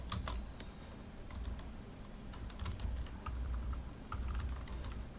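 Typing on a computer keyboard while writing an SQL query: soft, quick clusters of key clicks over a low steady hum, fairly faint and close, with no talk.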